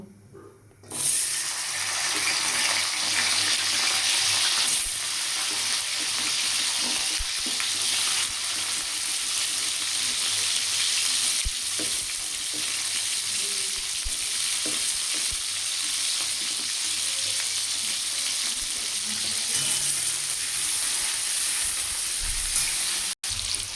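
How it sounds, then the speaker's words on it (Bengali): Steady, loud sizzling of capsicum frying in a hot pan, continuous hiss with occasional stirring clicks, no voices. "এবার ক্যাপসিকামগুলো ভেজে নেব"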